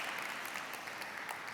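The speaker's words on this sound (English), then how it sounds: "Let's give some hearty claps again as he gets off." Audience applause at the opening session of a YALI Expo, steady dense clapping filling the hall from start to end at moderate loudness with no voices over it.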